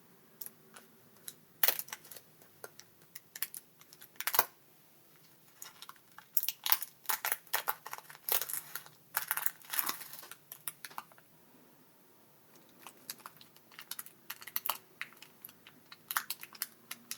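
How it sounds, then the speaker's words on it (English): A plastic package of mini building blocks being cut open: close, crisp crinkling and sharp clicking snips in irregular bursts, with quieter gaps, set against a faint steady background. "So I'm going to cut the package."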